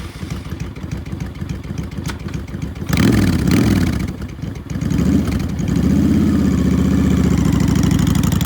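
A 2005 Honda Shadow Aero 750 V-twin cruiser with shaft drive runs steadily at idle, its low pulsing engine note rising slightly louder around midway and then holding a continuous, even rumble to the end.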